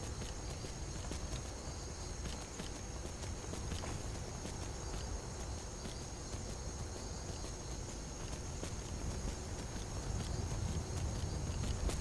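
Horse hooves clip-clopping while riding in Skyrim: a steady, fairly faint run of hoofbeats over a constant background hiss, lasting throughout with no pause.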